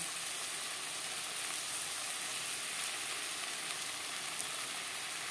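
Ginger and green chili paste fry in a pan for an egg and potato curry, giving a steady, dense, close sizzle that holds even throughout, with no voices.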